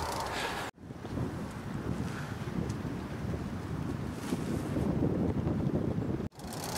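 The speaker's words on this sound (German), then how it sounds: "ich merke schon einen ordentlich kühlen Wind heute" Cool wind buffets the microphone in a steady, loud roar while cycling along the Moselle cycle path in Luxembourg, with two brief dropouts and no talking.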